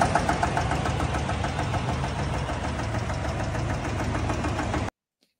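A 2021 GMC Yukon Denali's 6.2-liter L87 V8 runs with a loud, steady rapid knocking from the engine, close by and continuous for about five seconds before cutting off abruptly.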